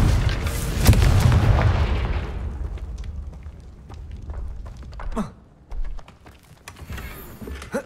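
A Confringo fire spell bursts in the Hogwarts Legacy video game with a heavy booming blast that decays over a couple of seconds, followed by quieter whooshes and game effects.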